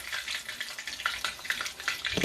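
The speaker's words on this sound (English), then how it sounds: "You hear that? You hear that grease?" Steady crackling sizzle of grease frying empanadas in a pan, close and continuous, with dense hissing pops throughout and no talking.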